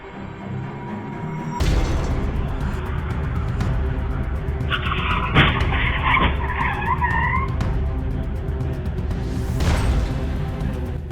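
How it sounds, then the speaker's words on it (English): Cars in a rear-end chain reaction crash on a road, with a loud tire skid squealing over traffic rumble, sharp impact thuds and a second screech near the end. "This is what you'd call a classic rear-end chain reaction."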